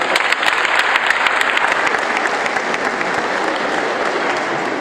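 Loud, dense applause from a crowd at a district ceremony in Gisagara, honouring the district leader; continuous rapid clapping close by, unbroken for the whole stretch with no speech over it.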